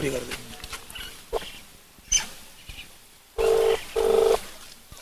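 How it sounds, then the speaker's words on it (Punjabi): A mobile phone placing a call sounds two steady electronic tones of about half a second each, close and clear, after a stretch of people talking nearby. "ਅਸੀਂ ਹੁਣ ਸੈਕਟਰੀ ਸਾਹਿਬ ਨੂੰ ਫੋਨ ਲਾ ਰਹੇ ਹਾਂ"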